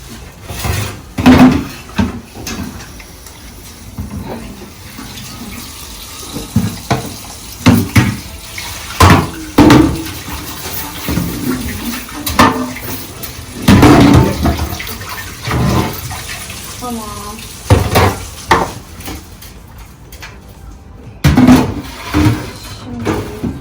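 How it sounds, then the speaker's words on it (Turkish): A baking tray being rinsed under a running kitchen tap, with water splashing and gushing in repeated bursts, close by and fairly loud, with occasional clatter of the tray. "Yalnız bunu bir kere ben sudan geçirmem lazım."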